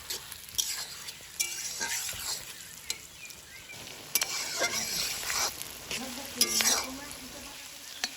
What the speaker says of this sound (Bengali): পেঁয়াজটা তো ভাজা হয়ে গেছে